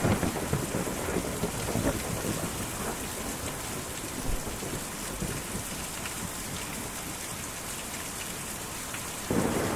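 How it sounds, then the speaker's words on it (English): Steady heavy rain pours throughout in the video game Kentucky Route Zero, with low rolling thunder rumbling underneath and a brief louder swell near the end. "Ooh, that's good rain. Good rain sound."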